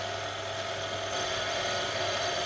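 A lathe takes a very light cut with a carbide tip insert, giving a steady, continuous high-pitched whine and hum that stays even throughout, with no talk.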